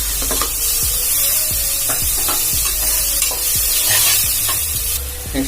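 Tomatoes hit a hot pan of chillies and chilli powder, sizzling steadily while a spoon scrapes and stirs in repeated knocks close by, with no voices.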